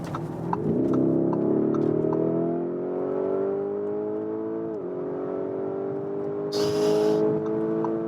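A performance SUV at 200 km/h through a long bend: a steady, loud engine drone heard from inside the cabin, with pitch slowly climbing and dipping briefly, plus a short burst of wind or road rush near the end.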